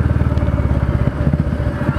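A Royal Enfield Meteor 350 single-cylinder motorcycle idles close by, its exhaust thumping in a steady, even low pulse with a slight mechanical clatter over it.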